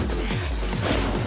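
A sunlight bomb explodes in an animated vampire fight, filling the moment with a loud, sustained low rumbling blast that stays dense and heavy throughout with no break.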